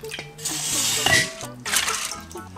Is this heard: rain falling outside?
no